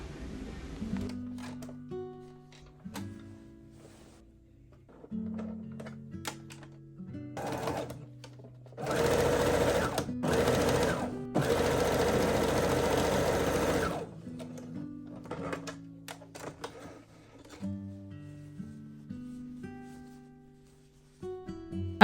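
A sewing machine stitches a seam on a nightgown, with several short bursts of running broken by pauses, then a longer, steady, louder run in the middle before more short bursts. Close and clear, with no talking.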